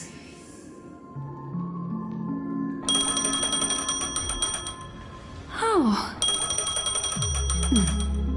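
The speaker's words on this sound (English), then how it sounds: "A phone." An in-game phone rings in Honkai Star Rail with repeated bright electronic trills in two bursts, heard over soft background music with a short swooping effect between them and a brief spoken exclamation.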